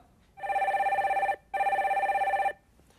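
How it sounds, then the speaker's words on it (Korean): A telephone rings for an incoming call on a radio talk show, two long electronic trills separated by a short pause, steady and clear with no talk over them. "다음 전화 빨리 받아볼게요"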